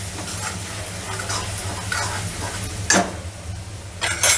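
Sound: stirring kasuri methi into frying potato curry

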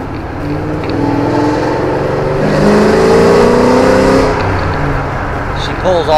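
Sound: 2007 Ford Mustang GT engine revving, aftermarket cams

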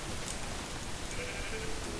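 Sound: sheep bleating in the video game Minecraft

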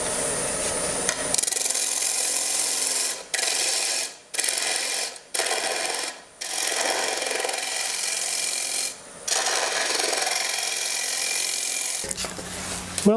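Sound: turning a Russian olive bowl on a wood lathe

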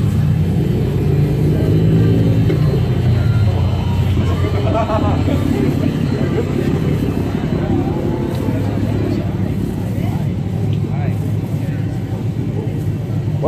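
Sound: car engine with leaking exhaust

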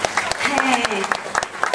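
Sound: audience applause at a charity evening

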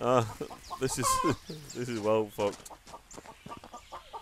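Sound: chicken clucking in video game New Dawn

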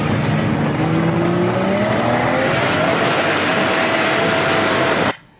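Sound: Chevrolet Opala or Diplomata car accelerating hard

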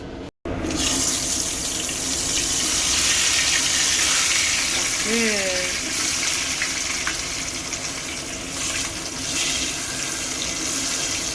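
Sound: potatoes frying with turmeric in a pan

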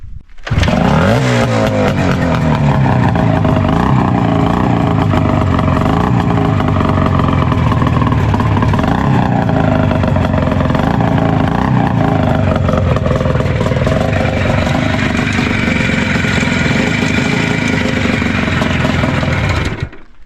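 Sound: IZh Jupiter 4 motorcycle engine starting and running

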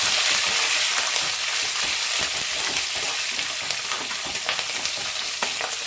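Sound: green chillies, cashews and curry leaves frying in oil

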